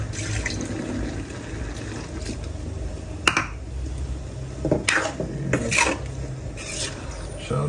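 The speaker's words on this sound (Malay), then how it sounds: "Kita tambah air sikit." Water poured or run from a tap into a pot of Hong Kong-style noodle soup broth in a home kitchen, a steady close trickle and splash with a few sharper clinks over a continuous background hiss.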